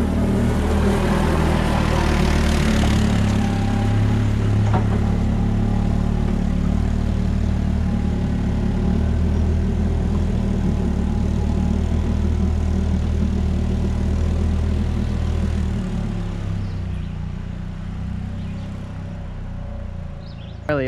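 A vehicle engine labours steadily to haul a heavily loaded trailer up a hill, a loud continuous low rumble lasting about twenty seconds that eases slightly toward the end.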